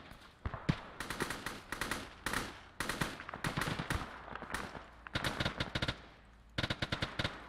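Bursts of automatic rifle fire in an ARMA 3 firefight from a tower, sharp cracks in irregular volleys of varying distance, fairly quiet overall with brief gaps between strings of shots.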